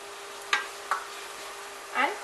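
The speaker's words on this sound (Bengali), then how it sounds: "মাশরুম এবার মশলার সাথে খুব ভালোভাবে মাশরুমটাকে একটু কষে নেব" Mushrooms being stirred and fried with spices in a pan, heard as a few scattered scraping stir strokes over a faint steady sizzle, fairly quiet and close.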